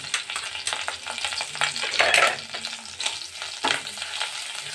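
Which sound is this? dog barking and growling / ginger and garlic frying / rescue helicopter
ginger and garlic frying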